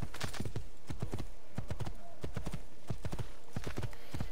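Horse hooves clip-clopping in a steady trotting rhythm in the Assassin's Creed 2 video game, loud and close, continuous throughout with no talking over it.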